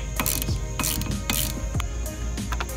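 A ratchet wrench with a 15 mm socket loosening the nut on a Jeep JLU Rubicon wiper arm: rapid metallic clicking in quick bursts, about five strokes, close and loud with no talking.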